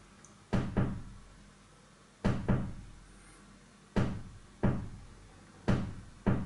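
Square-wave oscillator of an ARP 2600 synthesizer slowed to LFO rate, giving sharp knock-like ticks in uneven pairs, each decaying quickly, repeating roughly every second and a half, alone without talk.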